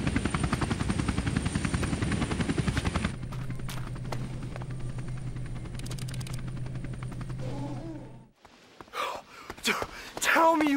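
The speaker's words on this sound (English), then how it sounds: "This one ends with the police helicopter showing up in between the hotel we're on and the Pink Hotel." Police helicopter in the Tony Hawk's Underground video game, a loud steady rotor drone with a dense chopping pulse that fills the first three seconds, then a lower hum continues under game sounds before louder bursts at the end.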